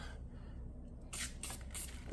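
Brake and parts cleaner hisses from an aerosol can onto a 2001 Yamaha PW50 dirt bike, in two or three short sprays close by after a quiet moment, with no voices.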